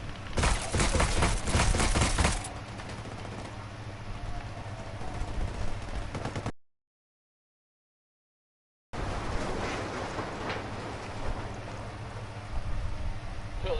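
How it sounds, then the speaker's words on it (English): Gunfire in a game firefight, a heavy burst of rapid shots opening loud, then sustained rumbling combat noise, a short silent gap, and more dense background firing afterward. "I'm opening fire."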